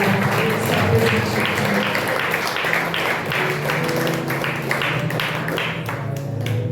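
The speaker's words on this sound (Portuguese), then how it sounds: "Dê um aplauso, igreja, ao Senhor," Church congregation clapping during a celebration service, steady rhythmic applause over a sustained musical background, moderately loud throughout.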